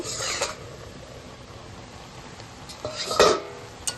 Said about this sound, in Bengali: তো এবার আমি ঢাকনাটা একবার খুলব